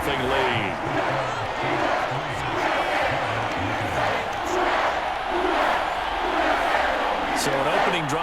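A football stadium crowd murmurs and roars steadily after a New Orleans Saints field goal against the New York Giants, a dense distant wash of voices with scattered shouts beneath talk.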